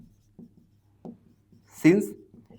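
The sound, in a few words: writing an equation by hand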